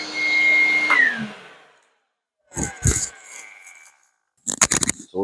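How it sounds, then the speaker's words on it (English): A RIDGID 6.0 HP 14-gallon wet/dry shop vac whines loudly, then winds down, followed by two bursts of rattling and clattering as it sucks up pieces of plywood and 2x4 debris, with silent gaps between. "Get a piece of ply, see how it sucks that up, and 2x4."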